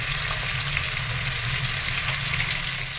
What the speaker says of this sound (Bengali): এইগুলোও আমি ভেজে নেবো একই রকম করে